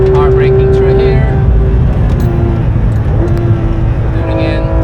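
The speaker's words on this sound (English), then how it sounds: "Car braking through here." A Porsche GT3 RS slows on the Nürburgring, heard from inside as the engine note drops and wavers under braking, loud and close, with a voice talking over it.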